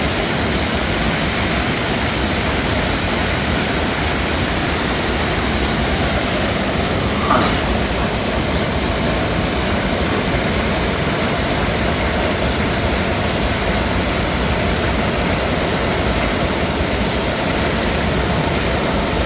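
Water pouring down over a check dam at Chithirai Chavadi near Coimbatore, a loud, constant roaring rush that stays close and steady throughout with no talk over it.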